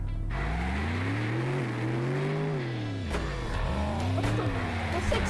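A car accelerating in the zombie-driving video game Earn to Die 3, its engine note climbing, dipping and climbing again in long revving sweeps, loud and continuous, with a brief skid near the middle.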